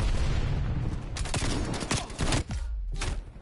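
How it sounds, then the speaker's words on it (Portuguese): Shotgun and other gunfire in the video game Call of Duty Cold War: a loud, rapid string of close blasts, followed by a few separate shots. "Olha, 2 tiros de caçadeira à queima-roupa e o gajo não morre."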